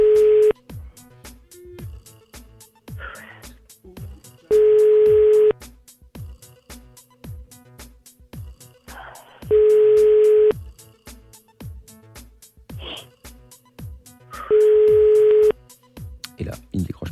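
Ringback tone on an outgoing phone call that goes unanswered, four long steady rings spaced about five seconds apart, with a radio show's studio sounds and soft talk underneath.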